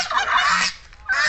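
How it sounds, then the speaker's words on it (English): A pair of pet geese kept with turkeys beneath a banyan tree honk loudly and close by, a sustained nasal call that breaks off briefly and then starts again. "with them there are a geese couple"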